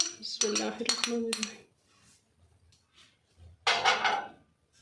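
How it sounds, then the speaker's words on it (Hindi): Raw chicken tossed with ginger garlic paste in a bowl for a chicken vegetable burger, giving two bursts of close clinking and scraping with a quiet pause between. "इनको अच्छे से करेंगे मिक्स"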